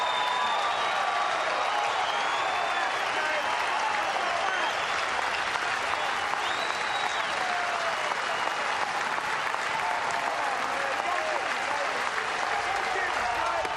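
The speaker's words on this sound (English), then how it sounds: "And here comes the crowd." A college baseball crowd at a South Dakota State versus Nebraska game cheers and applauds, a dense, steady roar of clapping and shouting that holds loud and unbroken throughout, with faint commentary beneath.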